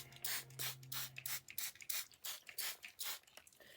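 A spray bottle mists moisturizer onto hair locs in quick repeated hissing bursts, about a dozen short sprays in an uneven rhythm, close and fairly soft.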